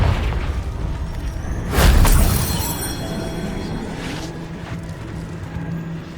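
A Confringo fire spell explodes in Hogwarts Legacy, a single loud booming burst near two seconds in, then a crackling tail that fades over a low ambient rumble, with a faint second burst later.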